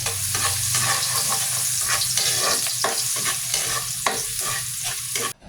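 Garlic sautéing in a pan as the first step of pork afritada, a steady close sizzle with intermittent stirring scrapes running throughout, no voices.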